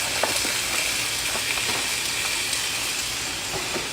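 Patties sizzle in a skillet at breakfast, a steady, moderately loud frying hiss with faint scattered pops and no voices.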